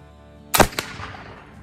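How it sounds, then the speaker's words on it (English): Black powder mixed with iron oxide ignites in a single sharp, loud burst followed by a quick second crack, then a fading noisy tail. "Shot number two with the iron oxide powder."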